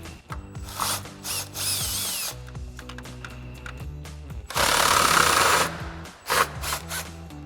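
Impact wrench fitted with a 10mm socket and extension loosening grille mounting bolts on a 2019-2021 GMC Sierra 1500, giving several loud, close bursts of whirring hammering separated by brief pauses.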